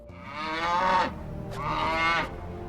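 Two long, loud cow moos, each rising and falling over about a second, one after the other with a short gap, close and clear with no talk.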